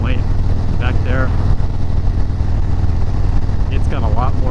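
A motorcycle fitted with a Fuel Moto 124 big bore kit and S&S 475 cam accelerates, its engine a loud, continuous roar throughout, with someone talking over it.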